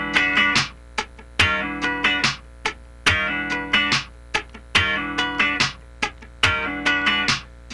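A funk guitar slides into a ninth chord while the right hand scratches continuously, so muted percussive strums fill the spaces between the ringing chord hits in a tight, repeating sixteenth-note pattern, played solo and close.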